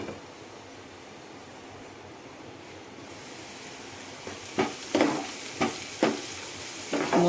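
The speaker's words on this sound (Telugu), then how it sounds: "మూత ఓపెన్ చేసి మళ్ళీ ఆనియన్స్ని ఒకసారి ఇలా తిప్పుకోవాలి" Chopped onions, tossed with turmeric and just uncovered, are stirred in a pan for a fenugreek-leaf and chana dal curry: a steady low sizzle, then a series of scraping spoon strokes against the pan in the last few seconds.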